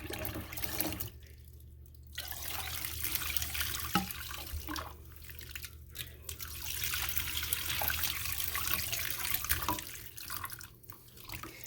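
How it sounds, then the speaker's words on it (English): Soapy water pours and gurgles through the tubes of a trumpet being cleaned, running in uneven splashing bursts with brief pauses, close by. "Then I take some of the soapy water and I pass it through each one of these tubes."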